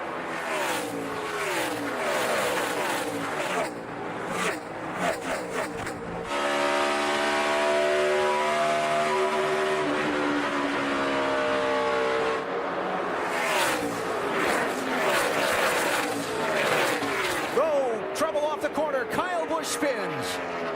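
NASCAR race cars in the 2012 Hollywood Casino 400 at Kansas roar past in continuous engine drones, rising and falling in pitch as packs pass, under steady commentary from the broadcasters.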